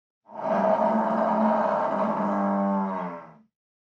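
A bison gives a single long, deep, sustained bellowing moan lasting about three seconds, loud and close, with a rough rumbling tone that tapers off at the end.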